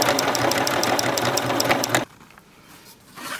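A sewing machine stitches a fabric bow knot for a baby headband flat, running in a steady fast mechanical whir for about two seconds and then stopping abruptly, leaving near silence.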